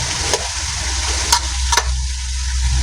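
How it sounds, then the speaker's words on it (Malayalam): Chicken fries lightly in a pan with a steady sizzle and a few sharp clinks of a utensil against the pan, close by, no voices. "നമ്മൾ ചെറുതായിട്ടൊന്ന് ചിക്കൻ ഒന്ന് വറുത്ത് പോയി"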